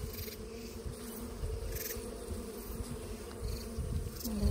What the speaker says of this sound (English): I'm gonna shake those bees.